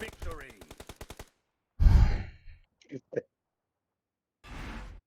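Rapid automatic gunfire from the PUBG Mobile battle royale game, a fast even burst of a dozen or so shots at the start, followed by breathy vocal sounds and a couple of short noises, then another brief loud burst near the end.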